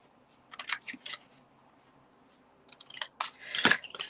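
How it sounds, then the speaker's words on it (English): Scissors snip Christmas specialty paper, a couple of short cuts followed by a louder, longer crisp slice, close and alone. "And then I'm just going to cut up to, the first score line there."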